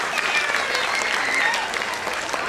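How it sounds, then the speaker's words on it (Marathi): Loud, dense applause from an audience at a pre-school annual day function, steady clapping throughout with a faint voice underneath. "सगळ्यांनी जोरदार स्वतःसाठी एकदा टाळ्या वाजवायचे आहेत"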